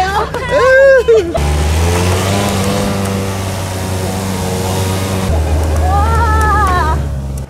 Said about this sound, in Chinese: 出发不久，来了一部佛心的小货车。